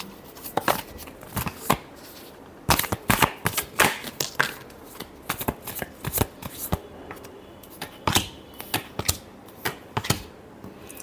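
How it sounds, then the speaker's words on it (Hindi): Tarot cards shuffled by hand, a series of quick riffling bursts and soft slaps in irregular rhythm, close up and fairly crisp, with no talking. "Last shuffle."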